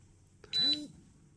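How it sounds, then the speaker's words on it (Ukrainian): An Atom-scan Geiger counter dosimeter gives a single short electronic beep at its first alarm threshold, one clear tone standing out against a quiet background. "Чуєте, один піск, одна вібрація."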